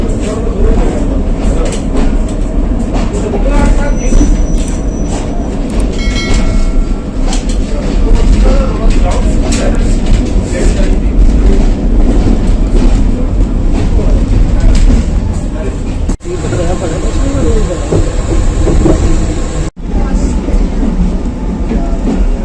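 A Pakistan Railways train rumbles steadily along the rails arriving at Jhelum station, a loud continuous roar with rattling and clacking. Faint voices sit under the noise now and then.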